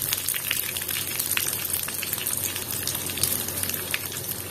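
Steady, dense sizzling of ginger frying in hot oil with chana dal, urad dal and a couple of peppercorns, a continuous close crackle with no talk.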